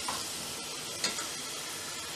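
Onions frying in oil as they turn red make a soft, even hiss of sizzling, with one brief louder crackle or stir around the middle.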